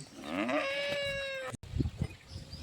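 A cow lets out a long, loud moo up close, followed by a brief pause and some low shuffling noises.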